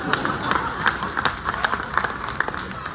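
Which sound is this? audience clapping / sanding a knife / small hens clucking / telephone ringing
audience clapping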